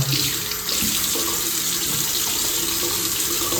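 A tap runs steadily into a sink for face washing, a continuous close rushing and splashing of water with no voices.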